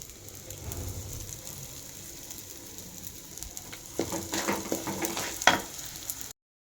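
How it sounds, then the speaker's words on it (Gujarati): Flour roasts in a pan with a soft dry sizzle, then a spoon scrapes and stirs it in a quick cluster of clatters and scratches close by before the sound cuts off. "જો લોટ મસ્ત શેકાઈ ગયો છે."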